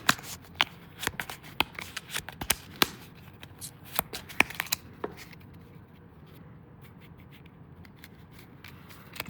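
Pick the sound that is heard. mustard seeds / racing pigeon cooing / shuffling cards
shuffling cards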